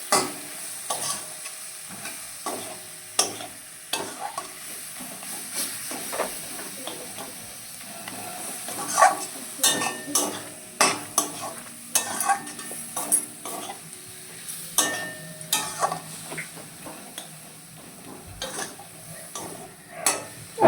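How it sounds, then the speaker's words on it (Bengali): Vegetables and potato for veg momo filling being stirred in a pan, with steady frying sizzle and repeated sharp scrapes and clinks of the spatula against the metal, close and continuous, no talking. "এবার এটাকে আমি নাড়াচাড়া করবো কতক্ষণ যাতে একটু মিক্স হয়ে যায়"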